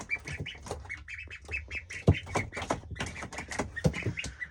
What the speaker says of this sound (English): Now the ducks have an entirely different situation going on. I have them set up in a brooder right here